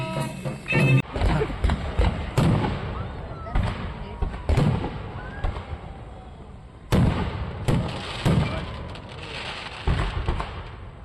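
Fireworks at a public celebration in Jharkhand, with repeated sharp bangs and crackling bursts at irregular intervals against a noisy background.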